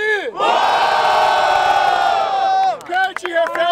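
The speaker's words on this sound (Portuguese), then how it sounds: "Barulho para as rimas do Baweb!" A loud crowd at a rap battle final roars and cheers in one sustained shout, then breaks into scattered whoops and voices as it fades.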